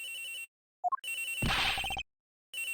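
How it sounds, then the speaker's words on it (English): A telephone rings in the Ace Attorney Investigations video game, a bright trilling bell heard in repeated bursts broken by short gaps, with a brief rising chime and a noisy game effect in the middle, clear and close. "The ringing's coming from somewhere in here, sir."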